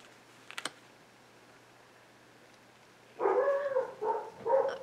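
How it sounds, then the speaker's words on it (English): Several loud dog barks close by in an indoor room, sounding after a short click or knock, with the barking arriving in a few bursts. "I don't know what triggered my dogs."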